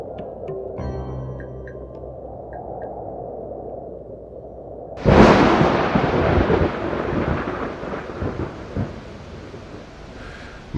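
A thunderstorm with rain: after a steady hiss of falling rain, a loud close thunderclap bursts in and rumbles on with crackling, uneven roars over the continuing downpour.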